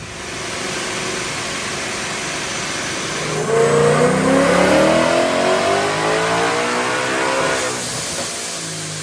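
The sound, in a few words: supercharged car engine revving during a pull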